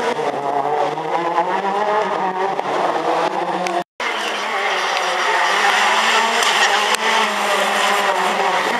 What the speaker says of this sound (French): Mika attaque son deuxième tour, il sera suivi par la voiture 121 Lionel Beau, Ford Fiesta RS